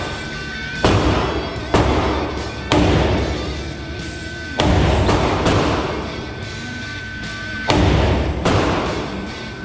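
An IAI AutoMag III pistol fires several rounds, each shot a loud, sharp bang with a ringing tail, spaced a second or more apart in an uneven rhythm, close and dominant.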